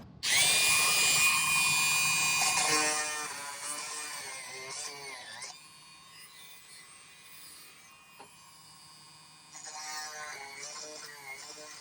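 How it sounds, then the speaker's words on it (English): Dremel rotary tool grinding a forged silver ring, a loud high whine for the first few seconds, then quieter intermittent buzzing and rubbing contact as the bit works the metal, rising again near the end. "let's go back over where the Dremel is"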